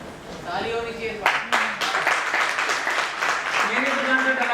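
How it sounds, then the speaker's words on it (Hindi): Applause from an audience at an MLM motivational seminar breaks out after a brief spoken line and holds as a steady, dense patter of clapping, with a voice still audible over it. "ताली होनी चाहिए।"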